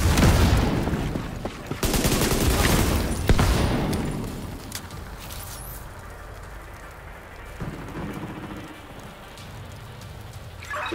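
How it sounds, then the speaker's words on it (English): Rapid bursts of gunfire in the video game The Division 2 crackle loudly at the start, then fade into a quieter, hissing background with a few scattered distant shots. "Was that gunfire?"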